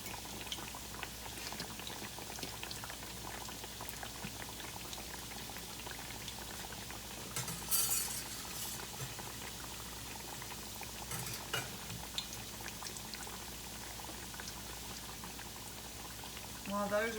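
Apple turnovers floating in hot oil bubble with a continuous frothy, boiling crackle, fairly steady with a few brief louder bursts along the way.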